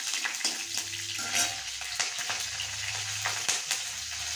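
Mustard seeds with dried and fresh green chillies sizzle and crackle in hot oil, a steady faint frying hiss with small pops and occasional spoon scrapes, close by with no talking.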